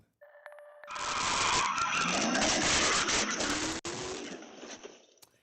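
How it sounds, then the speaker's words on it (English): A car crashes into a coffee shop in Germantown, caught on news footage: a loud, sustained scraping roar with a squeal lasting several seconds, a sharp break near the end, then fading debris noise, with no voices. "stunning new video showing this car crashing into a Germantown coffee shop"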